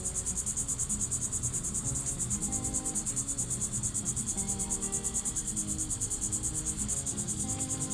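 A swarm of honeybees buzzes outdoors close by, a dense, continuous drone with a faint rhythmic pulse that holds steady throughout, with no voices over it.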